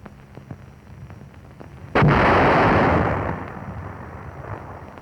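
A single artillery shell burst from a 1942 infantry training demonstration hits suddenly as one loud boom, then a rumbling roar fades over a few seconds.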